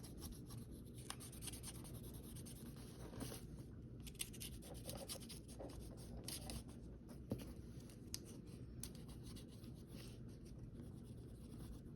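A pencil shades on paper for a papercraft junk journal page, producing a continuous soft scratchy rubbing of quick back-and-forth strokes, close and quiet, with no talking.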